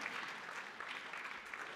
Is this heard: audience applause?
yes